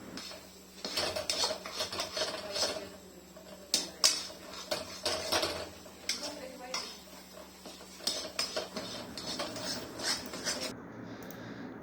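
A spoon scrapes and clanks against a kadhai while a sweet milky mixture is roasted in ghee, with repeated metallic knocks and stirring scrapes at an irregular rhythm, fairly quiet, and a low voice briefly in the background.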